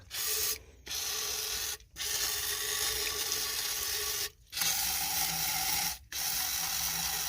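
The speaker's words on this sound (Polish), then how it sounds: "ja chciałem tłoki umyć, a przy okazji myję dorocik tutaj" Water sprays in sustained bursts, washing car pistons and a throttle body, the rushing hiss cutting off four times with short silent gaps between, fairly close.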